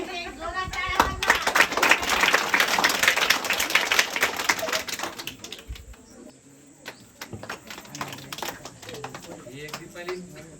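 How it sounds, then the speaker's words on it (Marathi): A school farewell ceremony audience bursts into loud, dense clapping up close, which thins out into scattered claps after about five seconds while a voice talks through it. "एक जोरात टाळ्या वाजवा."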